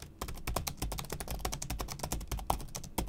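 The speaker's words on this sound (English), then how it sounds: "It's a bit rattly, very unsatisfying keystrokes" Rapid, steady typing on a Lenovo gaming laptop keyboard with rattly, unsatisfying keystrokes, dense clicks close up and alone with no voices.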